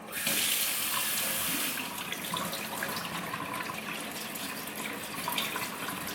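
Tap water runs into a bathroom sink as makeup brushes are rinsed, a close, steady hissing splash that is strongest at first and then continues a little softer and more uneven while the brushes pass through the stream.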